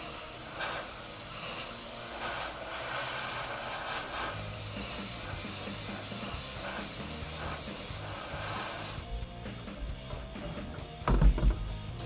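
An airbrush hisses steadily as paint is sprayed along a stripe on an RC car body, a close, continuous airy spray that stops near the end, followed by a few light handling knocks.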